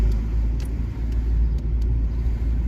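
A car drives along Kopernika street in Poland, its steady low engine and road rumble droning close and continuous with no talk.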